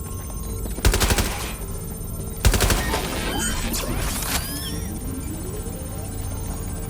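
Automatic gunfire in Watch Dogs: Legion as a drone is shot down: two loud, rapid bursts of shots, each followed by a noisy, ringing tail and a descending whine, over a steady game hum.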